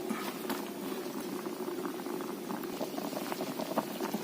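Water at a steady rolling boil in a pot for Thai chicken and papaya curry, a continuous dense bubbling and patter heard close up and alone, with no talking.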